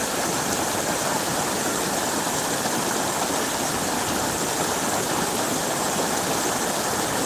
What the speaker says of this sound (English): the water flowing over the rocks and into the river, creating the white water that you see there